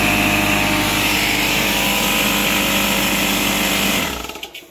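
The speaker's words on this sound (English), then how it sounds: "will this start a compressor?" Air compressor running off a 3000 watt 240 volt power source, a loud steady motor hum and rattle that stops abruptly near the end and sputters down.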